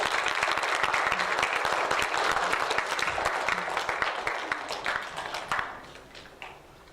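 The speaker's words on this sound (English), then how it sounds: "Round of applause for these students as they walk down off the stage." A crowd of students and staff claps at a school assembly as students walk down off the stage, a dense, steady round of applause that thins and fades out over the last couple of seconds.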